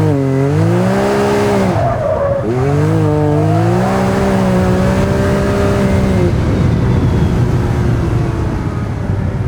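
Can-Am X3 side-by-side with an MBRP full bolt-on exhaust, loud and close on pavement, its engine revving up and down in rising and falling sweeps with tire squeal throughout and no talking.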